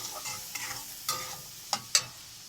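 Shrimp crackle in hot oil under a soft, moderate sizzle, with several distinct utensil clinks and scrapes against the pan, the last two sharp and close together.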